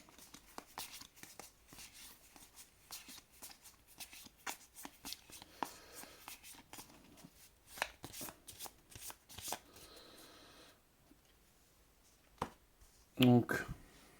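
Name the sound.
shuffling a deck of cards for the card game Mage Noir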